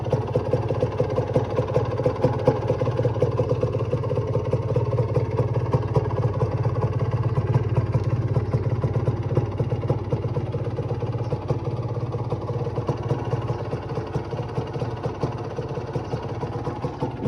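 A Honda NSR 125 two-stroke sport motorcycle idles steadily at close range, a continuous low engine drone with a faint rapid mechanical patter, running alone with no talk for the whole stretch.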